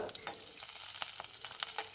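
Finely chopped garlic sizzles and crackles in hot oil in a pan, a steady frying hiss with small pops and occasional stirring clicks, close and fairly quiet.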